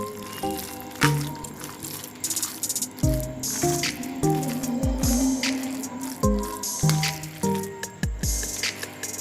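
Wet squishing and clicking as noodles are mixed by hand with Maggi masala into a pakora batter, steady irregular mixing sounds close up with no talking.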